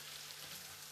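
Onion fries in a pan with a steady, faint hiss of sizzling oil that stays even for under a second, close by, with no voices.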